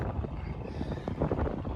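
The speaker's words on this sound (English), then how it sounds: "Sorry if you can't hear me because the wind. It's a very windy day." Gusty wind on a very windy outdoor day buffets the microphone with a low, rumbling roar that swells and dips unevenly, fairly faint overall.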